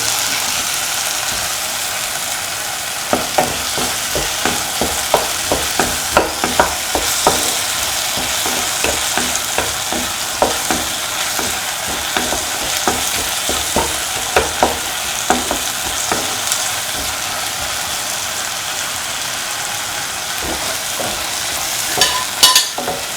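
Two Kashmiri chillies frying in a pan for a yam and potato stew, a steady loud sizzle broken by frequent scraping stirs and clicks of a utensil against the pan, with no talk.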